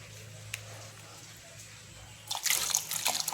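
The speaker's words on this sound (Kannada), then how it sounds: "ಇದು ಮುಳುಗುವಷ್ಟು ನೀರು ಹಾಕಬೇಕು." Water is poured into a pan of beans for a bean curry, arriving as a sudden splashing gush after a quiet stretch with only faint drips and low background hum.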